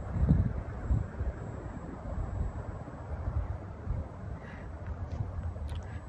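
Steady wind of about 5 to 10 mph at an RC flying field, buffeting the microphone as a continuous low rumble throughout, with a faint thin whine from a flying wing high overhead.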